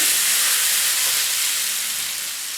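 Onions cooking in melted butter as wine is poured in for a velouté-based sauce, giving a steady, loud broadband hiss and sizzle that fades slightly toward the end, with no talking.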